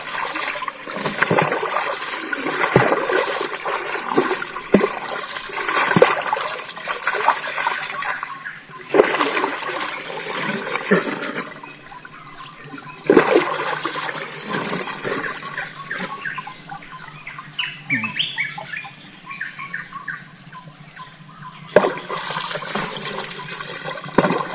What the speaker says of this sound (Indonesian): mandi di sungai, air Sengata, sungai Sengata kawan